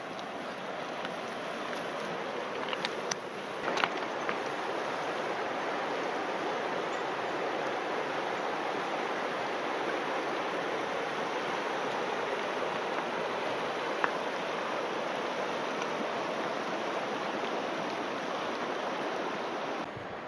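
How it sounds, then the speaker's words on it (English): A mountain creek flows and rushes in a steady, unbroken wash of water noise that stays even and fairly close throughout, with no talking. "Well, that creek's flowing pretty good."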